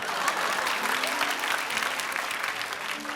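Congregation clapping during a church sermon, a dense continuous wash of many hands heard at moderate distance, steady throughout with a low murmur of voices beneath.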